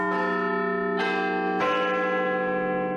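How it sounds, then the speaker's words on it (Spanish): Big Ben, the great clock bell in London, strikes its chimes: three deep, ringing bell strokes at roughly even intervals, each blooming into a long humming resonance that overlaps the next, with no voices present. "El Big Ben de Londres dio el lunes las 12 campanadas antes de un largo silencio."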